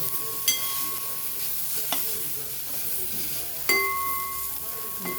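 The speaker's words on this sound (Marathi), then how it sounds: "याला हलवून घेऊया आपण. त्यामध्ये आपण का गरम मसाला ॲड करायला आहे. सर्व एकत्र असं व्यवस्थित मिक्स करून घ्यायचं." Eggplant curry with garam masala is stirred in a pan, with soft frying sizzle underneath and a few sharp clinks of the utensil against the pan, quiet and close.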